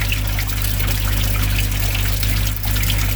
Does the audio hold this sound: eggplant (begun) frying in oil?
no